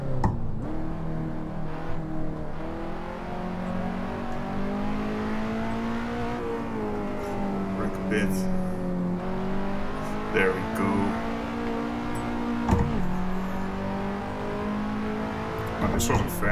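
A race car in the Assetto Corsa sim racing game, played on a Thrustmaster T300RS wheel, brakes and downshifts near 200 km/h, its engine whining continuously with pitch dips and rises under loud, steady engine noise.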